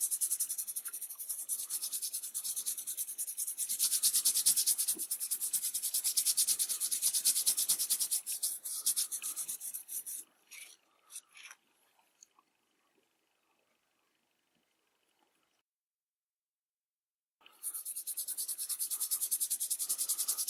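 Mica and beeswax gilding wax paste is rubbed onto a surface, making a soft, close, continuous scrubbing hiss. It breaks off into a few faint scrapes and a long silence, then resumes.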